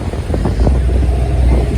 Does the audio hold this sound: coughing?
no